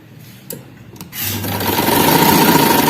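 A sewing machine starts stitching an A-line frock after a couple of soft handling knocks, its motor rising into a steady close whirring rattle that builds louder over the last two seconds.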